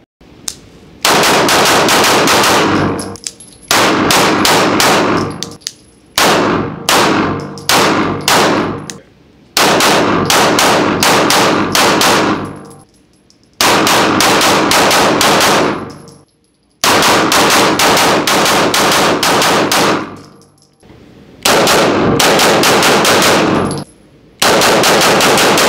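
Loud, close bursts of rapid automatic fire from a Mac 9 DS gun at a shooting range, several long strings of shots separated by brief pauses, with no talk.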